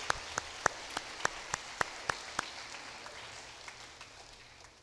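A short burst of sparse clapping from a lecture audience at De La Salle University, about nine distinct claps at a steady pace, then fading into a quiet hiss.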